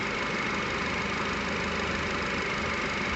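A Nissan Qashqai J10 engine idles steadily throughout, a dense, continuous low rumble with no speech over it, recorded close to the engine bay during an air-conditioning refill.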